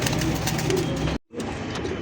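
Pigeons in a loft, including fancy breeds such as Pakistani Danish, coo continuously at close range, with a brief silent gap near the middle.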